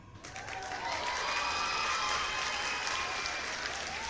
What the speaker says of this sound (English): That virtual crowd showing lots of love for Germany